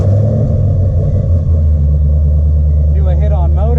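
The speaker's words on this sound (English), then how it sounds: "So let's spin the rollers up" A nitrous-fed car spinning dyno rollers, a loud steady engine rumble with whirring rollers throughout, holding level without a clear rev change, close and continuous.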